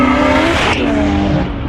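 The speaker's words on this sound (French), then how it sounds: "Écoutez-moi ça, ce son là." A BMW 1M with a stage 2 tune and Akrapovic exhaust revs hard close up, a loud, continuous engine roar with the pitch shifting over the short burst.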